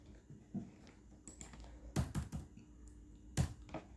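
Key clicks from typing C++ code on a computer keyboard, scattered quiet taps with a few louder bursts of several quick strokes, close by and with no talking.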